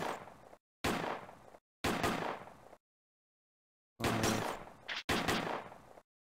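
Loud gunshots ring out one at a time at targets in Dust: A Tale of the Wired West, each blast decaying with a short tail and separated by stretches of silence.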